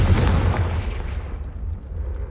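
A Confringo fire spell cast in Hogwarts Legacy bursts with a loud booming blast that rumbles and decays over a couple of seconds.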